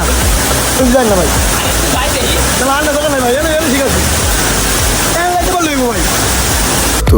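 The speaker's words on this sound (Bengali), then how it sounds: "তো এই ছিল মায়াবী ঝর্ণার ভিউ" The Mayabi waterfall in Sylhet roars as a loud, unbroken rush of falling water high on the hillside, with a voice talking over it.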